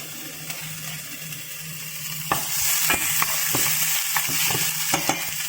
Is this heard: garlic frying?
yes